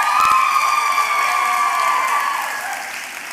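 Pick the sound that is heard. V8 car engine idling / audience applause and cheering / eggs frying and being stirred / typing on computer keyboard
audience applause and cheering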